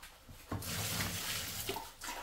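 Brine for kimchi is poured into a bucket, a splashing gush of liquid that starts abruptly and runs for about two seconds, loud and close.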